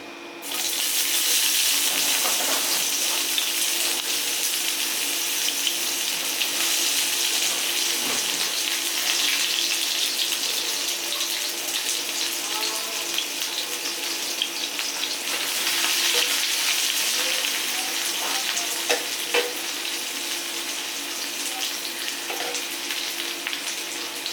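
Chopped onion sizzles loudly and steadily in a frying pan for an egg curry, a continuous close hiss with occasional faint clinks and no voices.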